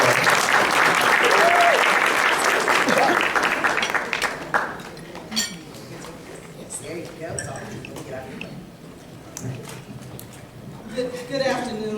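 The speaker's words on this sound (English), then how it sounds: "give her a round of applause" Audience applause at a university alumni chapter scholarship luncheon, loud and dense at first and then fading to scattered claps, with people talking over the later part.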